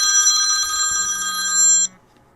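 A door intercom buzzer rings with a bright, pulsing electronic tone, close and loud, holding for nearly two seconds before cutting off sharply.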